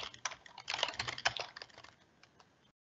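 Close, quick keystrokes rattle on a computer keyboard as an address is typed in, a burst of rapid clicks lasting about two seconds before stopping.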